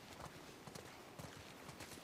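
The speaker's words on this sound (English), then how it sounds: "You guys have horses." Horse hooves in The Last of Us Part I at a hydroelectric dam settlement, a faint, rhythmic clip-clop of several steps set against a steady hiss of background noise.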